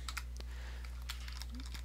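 Keys being pressed on a computer keyboard, a scattered series of soft, close clicks at an irregular pace over a steady low electrical hum, with no voices.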